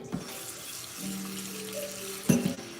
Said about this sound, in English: All right, I'm gonna add water.